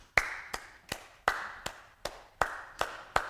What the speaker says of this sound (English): Bringing it all the way back to some claps.